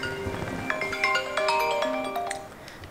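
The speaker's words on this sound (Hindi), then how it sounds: "किसी का फ़ोन आ गया, बाद में करता हूँ।" A phone ringtone plays a bright electronic melody of repeated tonal notes for a few seconds, loud and close, with no talking over it.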